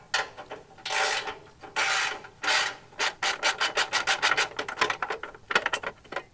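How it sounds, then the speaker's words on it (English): A 12mm socket ratchets and turns a bolt loose on the underbody cover of a Toyota 4Runner, giving bursts of scraping rasps followed by a quick run of rhythmic clicks, close and fairly loud. "grab a 12mm socket, and we're going to loosen that one off"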